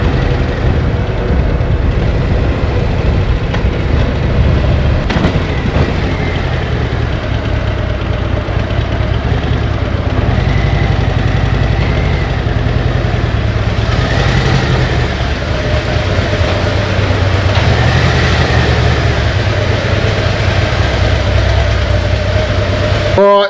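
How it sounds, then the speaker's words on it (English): A 2024 Harley-Davidson CVO Road Glide with a VVT V-twin and full exhaust system runs on a dyno, a loud, steady, deep engine drone that holds for the whole stretch with slight swells in pitch. "Going to chuck this up on the dyno, put a full exhaust system on it."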